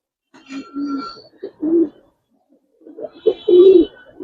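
Hemar and military pigeons cooing at close range in two separate bursts of throaty, rolling calls with a short pause between them, no talk over them.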